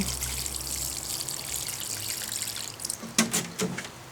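Water trickles and splashes softly into the soil of a potted cilantro plant, a quiet pour followed by a few brief drips and dribbles.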